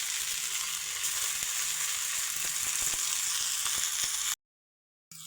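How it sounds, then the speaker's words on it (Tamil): Green chillies and amaranth-type greens sizzle steadily as they are stirred in a hot frying pan, a dense continuous hiss with faint scraping clicks, cutting off abruptly near the end before a brief return. "அந்த வாரநாதம் கீரையை போட்டுக்குங்க. போட்டு ஒரு கிளறி விடுங்க"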